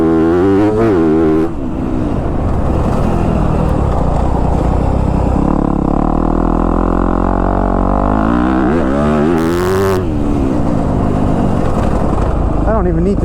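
A Yamaha YZ250F Monster Energy Edition dirt bike ridden off-road, its loud engine revving and dropping through the throttle, close and continuous, with a rider's voice over it at times.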